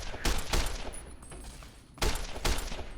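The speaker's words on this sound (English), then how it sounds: "Just stand in a line so I can just shoot all of you." Gunfire in the video game Fallout: New Vegas, loud sharp shots fired in two pairs of bursts with a lull between, close and alone with no talking.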